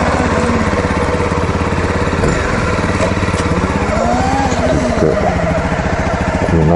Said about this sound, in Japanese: いつも一緒に行ってる有永さんの CRF ちょっと乗らせてもらいます。